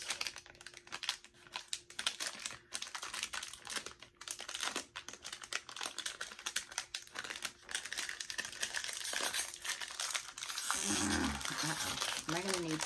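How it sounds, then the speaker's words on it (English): A plastic Killer Clowns blind bag being torn open and handled, with dense, close crinkling and crackling throughout and some lower rustling near the end. "I got a Killer Clowns blind bag and a Universal blind bag. So let's open these."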